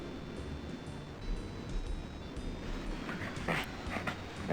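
A dog in the video game Normality whimpers and whines in soft, repeated cries over a constant low game ambience.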